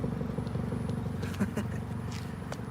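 Exhaust note from a 2019 Mini Clubman S fitted with a JCW Pro exhaust and carbon fiber tips, a low steady rumble at idle heard close by with faint clicks over it.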